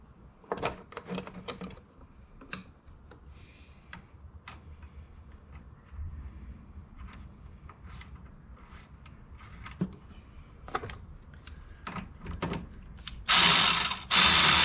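Bolts are being started back in on a 2011 Toyota RAV4 during alternator and belt work, with quiet scattered ratchet clicks and metallic taps near by, then a louder rush of noise at the end.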